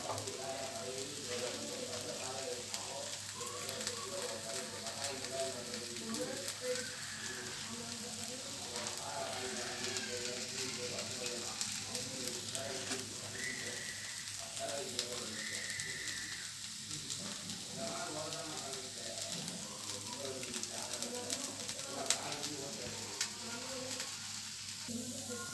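Rava dosa batter fries on a hot pan with oil and optional ghee, giving a steady, continuous sizzle throughout, with occasional light scraping and faint background speech.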